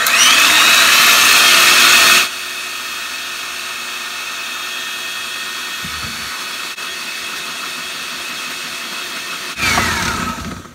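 An electric hand mixer whips egg whites for a matcha rolled cake, a loud high whirring at full speed for about two seconds, then quieter, and a final loud burst near the end.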